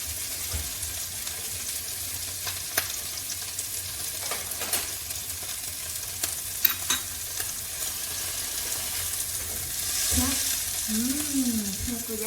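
Butter and steak frying in a pan give a steady close sizzle with a few sharp pops and spatters, and running water sounds briefly near the end.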